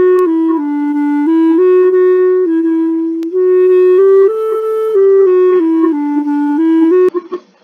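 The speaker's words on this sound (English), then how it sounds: "Sound of clarinet." A solo clarinet plays a slow, sustained melody of held notes that step up and down, clear and close, with no talking.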